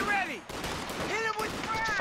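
Machine gun fire in Company of Heroes 2 co-op battle: sustained rattling bursts, loud and dense, mixed with in-game unit voices and chatter throughout.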